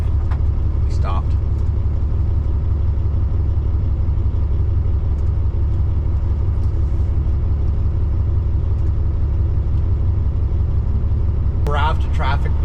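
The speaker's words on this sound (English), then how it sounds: "Raft of traffic behind me" Road traffic with car engines rolls past on a highway, a steady, loud, close low rumble that continues without pause throughout.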